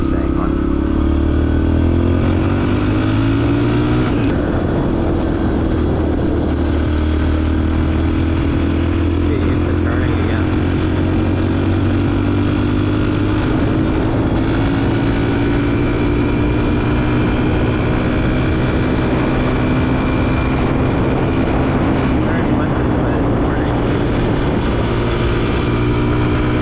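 Dirt bike engine running steadily on wet roads, a loud continuous drone with rising and falling revs as the rider cruises; a voice talks over it at times.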